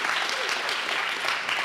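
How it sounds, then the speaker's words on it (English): An audience claps steadily after a talk at a Thomistic Institute event, a brief, dense burst of applause filling a room. "Could we give one more round of applause?"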